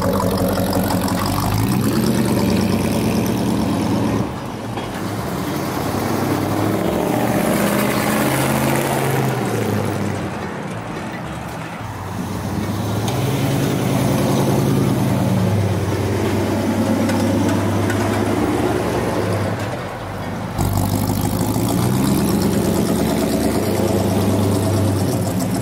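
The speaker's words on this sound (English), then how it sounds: "So this truck has Magnaflow mufflers with a complete mandrel bent," A 1976 Ford F100 Bicentennial Edition V8 idles steadily through Magnaflow mufflers and mandrel-bent dual exhaust, a continuous low rumble heard alone with two brief dips in level.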